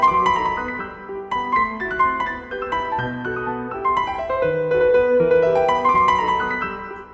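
Bösendorfer Imperial grand piano sample library heard through a close-mic mix, playing a continuous flowing passage of melody over chords for several seconds, clear, full and fairly loud, with no voices.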